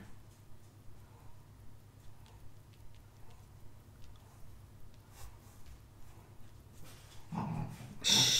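A dog named Oscar whining indoors to be let outside, soft repeated whimpers in a steady rhythm, followed by a louder rustle at the end.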